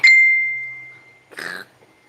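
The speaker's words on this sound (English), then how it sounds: "somebody's over here dinging my bell" A bell is dinged once, giving a bright, loud ring that fades slowly over about a second, followed by a short burst of rustling noise.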